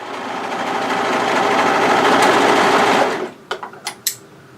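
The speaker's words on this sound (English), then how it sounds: "just go over that again with your plain sewing machine just to reinforce that area there" A plain sewing machine stitching over hoodie fabric to reinforce a seam, a loud steady whirring run that stops after about three seconds, followed by a few brief mechanical clicks.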